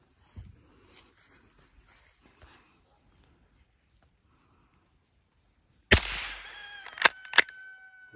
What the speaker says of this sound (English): Now the 22 pump rifle here, I'm gonna make a video of one.